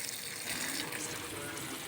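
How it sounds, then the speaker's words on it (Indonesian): Water splashes and gushes steadily as potted adenium plants are watered, a continuous soft pouring with no pauses and no one speaking. "Setiap hari saya melakukan penyiraman."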